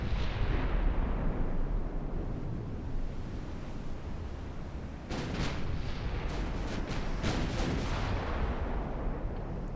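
Naval guns fire in the warship strategy game Ultimate Admiral Dreadnoughts, a dense rumbling barrage of booming shots with a burst of sharper cracks midway, steady and loud without speech.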